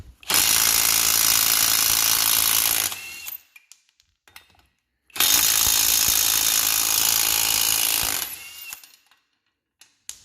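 Matco 3/8 inch impact gun loosening a socket, two long loud hammering bursts separated by a pause, with light clatter between them.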